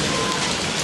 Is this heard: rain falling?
yes